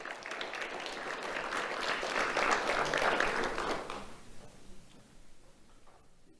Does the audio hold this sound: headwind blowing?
no